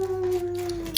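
A person's voice imitates a wolf howl, holding one sustained, slightly falling tone for about a second before a brief sharp sound at the end.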